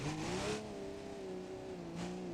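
A car engine in BeamNG.drive revs with a steady droning tone, rising slightly and holding, loud and close with no voices over it.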